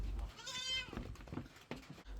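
A super crossbreed goat on a farm near Manjeri, Kerala, gives a single clear, wavering bleat close by, followed by quieter shuffling and breathing.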